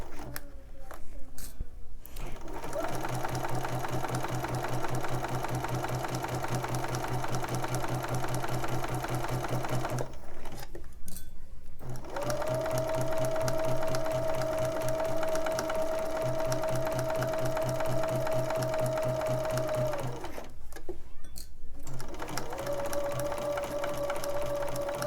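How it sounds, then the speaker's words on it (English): A sewing machine stitches a quilt seam in long steady runs, its motor humming with a fast needle chatter, pausing twice briefly between runs, close and continuous. "and sew the next seam."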